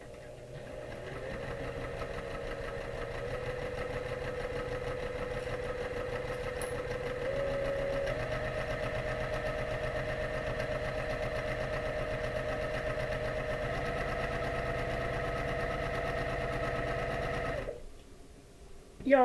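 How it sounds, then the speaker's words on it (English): A sewing machine stitches strips of quilting fabric together, a steady continuous mechanical hum running for about seventeen seconds before stopping, with a brief clatter at the end. "why did I just realize I'm sewing the green to the red when I'm supposed to be sewing the black strip to the red?"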